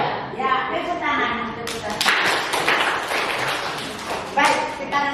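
A school class of students claps in a classroom, starting with voices and chatter before a dense burst of handclapping that rises in the middle and fades, with children's speech mixed through.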